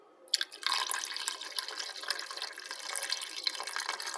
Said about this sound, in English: we're putting water